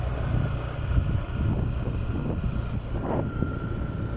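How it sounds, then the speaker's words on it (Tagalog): A steady low roar of wind blows across the microphone, constant and fairly loud, with a faint engine-like hum underneath. "Tignaw sa hangin guys."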